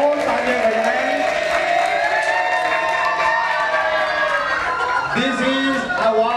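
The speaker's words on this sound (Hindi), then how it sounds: "तालियां बजाएं प्लीज" An audience claps and cheers at a saree auction, a dense crowd sound carrying on throughout, with voices and shouts mixed into it.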